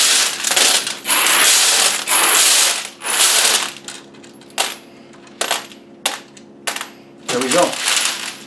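Brass cartridge cases pour and clatter onto a metal baking sheet in several bright, jangling bursts, the first long and dense, then shorter spills with pauses between, up close, with a brief spoken remark near the end.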